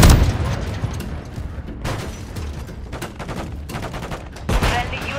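Gunfire in the Call of Duty 3 video game: loud, close bursts of rapid shots and sharp cracks in irregular clusters, with heavy booms near the start and end.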